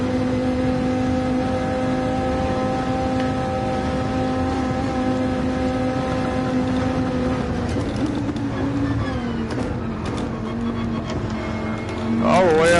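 Race car engine in a racing video game, running on nitrous down the straight in seventh gear at over 300 km/h, a loud sustained high-revving drone with gear changes near the end, under continuous talk.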